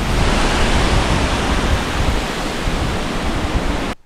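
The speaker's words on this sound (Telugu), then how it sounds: "ఇదే చిన్ని వాటర్ ఫాల్ అన్నమాట" A small waterfall in Wadi Shab, Oman, pours with a loud, close, steady rush of falling water that cuts off abruptly at the end.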